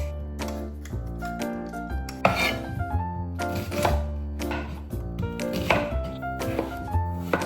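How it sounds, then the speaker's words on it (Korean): Knife work on potatoes being peeled for a pork curry, heard as scattered scraping and tapping strokes under steady background music. "사정없이 감자를 깎아주실게요."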